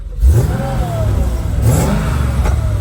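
A tuned stage 2 car engine with remapped engine and gearbox, rated around 650-700 horsepower, revs up loudly and close by in two rising pulls, with a steady roar between them.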